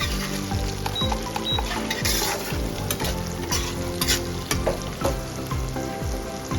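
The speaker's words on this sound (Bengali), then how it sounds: "একটু ভাজা ভাজা করবো।" Steady frying sizzle of chickpeas in a pan with rhythmic scraping and stirring of a spatula, continuous and close, no voices.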